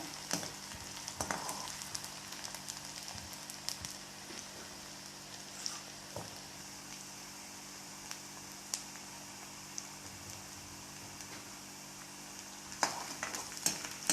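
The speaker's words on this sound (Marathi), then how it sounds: "लालसर रंगावर कांदा परतून घ्यायचा आहे" Onion sautés in an oiled pan until reddish, a soft steady sizzle broken by occasional sharp ticks and scrapes of stirring, close and fairly quiet, with no talking.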